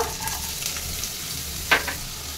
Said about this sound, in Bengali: দিয়ে দেবো 1 চামচ সরষের তেল, পেঁয়াজ দিয়ে দেবো অল্প